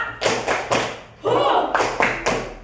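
A school class does a rhythmic group clap, the tepuk semangat cheer, during a coding lesson: sharp, loud claps in a patterned sequence with a short chanted voiced burst in the middle.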